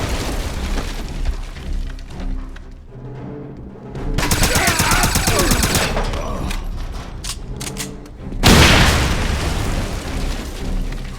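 In the Wolfenstein video game, bursts of rapid gunfire and booming explosions, including a grenade blast, crash together in a loud, chaotic firefight, with heavy hits landing midway and near the end.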